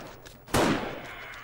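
A single loud gunshot goes off while shooting zombies in the survival video game 7 Days to Die, a sharp close crack with a decaying tail, following a quiet lead-in with no talk.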